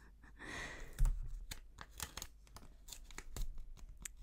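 Strip of really sticky double-sided tape is peeled and torn close up, a faint ripping stretch followed by a series of crackly, irregular tearing and crinkling bursts with no voice.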